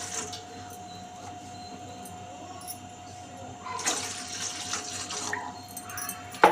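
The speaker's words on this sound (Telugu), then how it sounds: "2 గ్లాసెస్ వాటర్ వేసుకోవాలి" Steady running water pours and splashes into a pot while cooking tamarind rasam, growing louder and more turbulent near the end.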